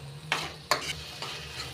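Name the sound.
stirring mutton with pepper and garam masala in a pan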